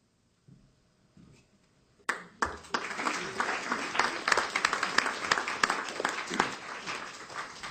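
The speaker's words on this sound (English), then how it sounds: "Please give everybody a nice warm round of applause" An audience at the 2017 Earth Day Awards ceremony breaks into applause after a brief quiet lead-in; the clapping starts suddenly and continues steadily, filling the room at moderate volume.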